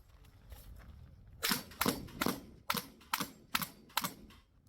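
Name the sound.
gunshots shooting at clay targets in a 3-gun match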